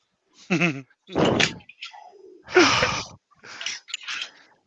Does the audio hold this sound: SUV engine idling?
no